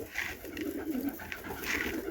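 A pigeon coos in soft, low, drawn-out murmurs from fairly close, with a steady hiss of background around it and no voices.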